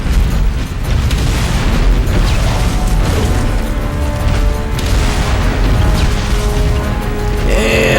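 RPG rounds slam and explode against a T-Rex in the shooter Turok (2008), a dense, continuous roar of blasts and rumbling booms at full loudness with no letup.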